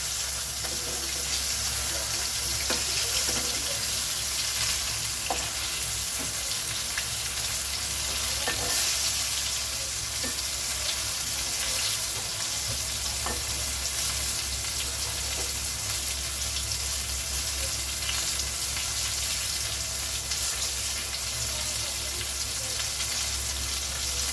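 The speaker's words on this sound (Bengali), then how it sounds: "এক পিঠটা কিন্তু খুব ভালো করেই ভাজা হয়ে গেছে।" Chicken pieces fry in a pan with a continuous close sizzle and occasional small pops, holding an even, steady level throughout.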